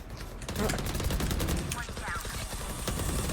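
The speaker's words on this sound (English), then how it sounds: "They were shooting through smoke." Rapid automatic gunfire from the shooter game Valorant, fired through smoke, with dense overlapping bursts continuing loud and close throughout.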